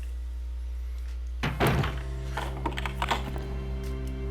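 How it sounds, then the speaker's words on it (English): A door being locked in the video game Resident Evil 2: a sudden loud metallic thunk and rattle at about a second and a half, then a few quieter clicks and knocks over a steady low game hum. "Well, he had enough strength to lock the damn door."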